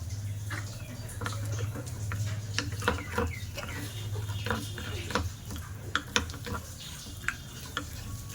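Batter for flaky chicken puri being stirred and mixed by hand, with irregular soft taps and scraping clicks against the bowl repeating throughout at close range over a low steady hum.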